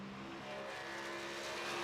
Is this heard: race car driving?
yes